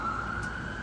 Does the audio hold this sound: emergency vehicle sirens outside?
yes